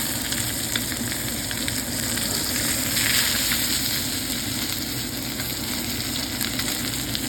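A steak searing in a hot pan gives a loud, close, continuous sizzle with crackling spits, holding steady for several seconds and swelling briefly midway, with no talk over it.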